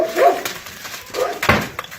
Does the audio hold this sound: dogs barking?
yes